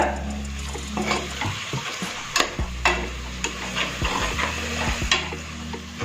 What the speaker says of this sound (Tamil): தயிர் 1/2 கப் மிக்ஸ் பண்ணிக்காங்க.